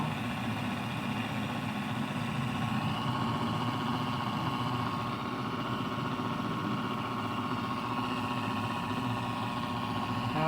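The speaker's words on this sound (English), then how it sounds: "the motor's running on just the super cap" An electric motor runs on power from a supercapacitor alone, giving a steady, even hum with a faint vibrating buzz that holds constant throughout, close and moderately loud with no talking.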